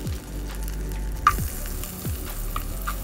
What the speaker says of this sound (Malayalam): വെളുത്തുള്ളി ഇതിലേക്കിട്ടിട്ട് ഒന്ന് വഴറ്റിയെടുക്കാം.